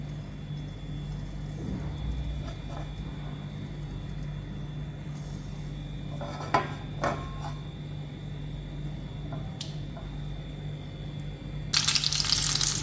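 Mutton samosas deep-frying in medium-hot oil in a kadai, a steady close sizzle and bubbling throughout, with a few light clinks and a louder burst of crackle near the end.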